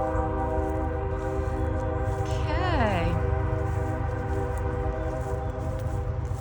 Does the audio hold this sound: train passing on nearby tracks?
yes